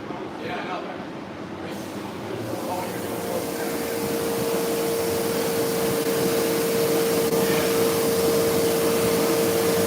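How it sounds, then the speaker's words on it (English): A power washer sprays the side cord of a synthetic rug with a continuous, close rushing hiss that grows slightly louder, while voices talk over it. "we're power washing the cord, the side cord, which on every synthetic rug, typically there's a cord around the rug"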